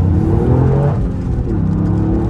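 A Toyota Yaris GR with 260 horsepower pulls hard in fourth gear on a snowy hairpin road, its engine droning loud and close with a steadily rising tone and no voices.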